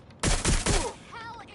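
Gunfire in the video game Watch Dogs Legion: three loud, close bursts of rapid shots in quick succession, then a short fainter tail.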